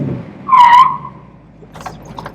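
The brakes on a Shelby Cobra replica give a single sharp, tonal tire squeal lasting about half a second, followed by quieter rumbling and faint scuffing noises.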